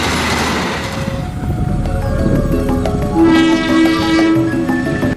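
A CC203 diesel locomotive passing close and loud, with continuous rumbling and clattering wheels and a sustained horn tone sounding over the din toward the end.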